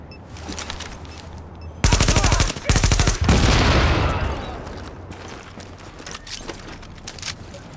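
Bursts of automatic gunfire in Tom Clancy's The Division, set in Manhattan: two sharp rapid volleys, loud and close, followed by a decaying echo and scattered quieter shots.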